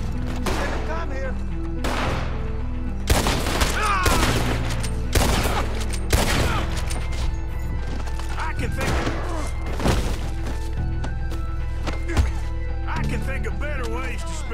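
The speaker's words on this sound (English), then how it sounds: "Can hardly see what I'm shooting at!" Gunfire during a shootout in the video game Red Dead Redemption II, with repeated sharp, booming shots scattered irregularly over a low rumbling bed, mixed with character voices shouting.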